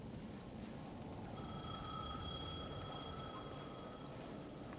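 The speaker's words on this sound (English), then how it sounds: "The payphone at the edge of the plaza was ringing again." A payphone rings at the edge of a plaza in the video game Alan Wake 2. One sustained electronic ring rises over a low ambient rumble partway through, then stops.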